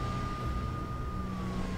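A police siren wails in Max Payne, a single steady tone sliding slowly downward over a rumbling background, moderately loud and continuous with no talking.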